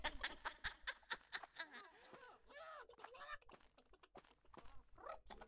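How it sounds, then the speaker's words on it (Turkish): Chicken clucking in the Witch It hide-and-seek game, a quick series of sharp repeated clucks and squawks near the edge of a ship, loud and close with short pauses between bursts. "Geminin kenarında tavuk ötüyor."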